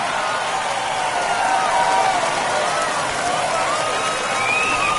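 A stadium crowd in the baseball video game MLB The Show 21 roars in a steady, loud, continuous wash of cheering after a home run in the bottom of the 8th.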